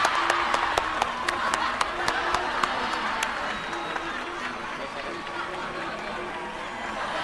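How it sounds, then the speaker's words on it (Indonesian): Studio audience at an Indonesian TV comedy show claps steadily, a dense wash of applause with sharp individual claps standing out at first, then thinning slightly while voices murmur underneath throughout. "tepuk tangan semua, tepuk tangan."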